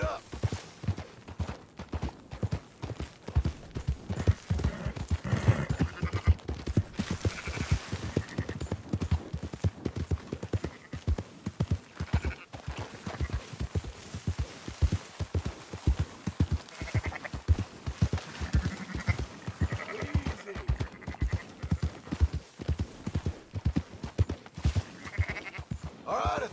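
Rhythmic clip-clop of horse hooves moving at a steady pace in the video game Red Dead Redemption 2, with sheep bleating now and then in the background.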